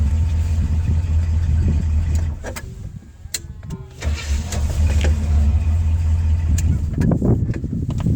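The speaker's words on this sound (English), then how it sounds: "we have a normal running car." A car engine idles steadily at close range, with a brief dip in the rumble midway before it settles back to a smooth, continuous running hum.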